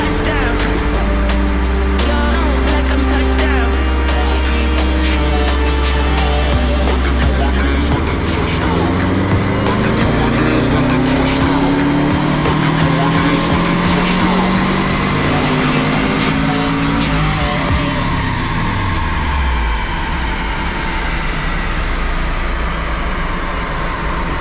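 A methanol-fuelled Subaru engine revs hard and loud on a dyno, its pitch sweeping up through the gears before dropping away as it winds down.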